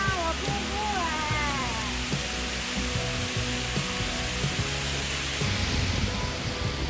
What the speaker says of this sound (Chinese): 哇，有瀑布哎！